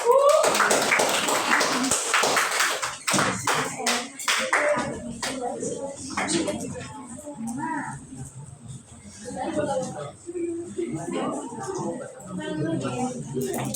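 Brief clapping from a classroom of students for a classmate, a short burst of hand claps at the start that quickly fades into a teacher talking and scattered small taps.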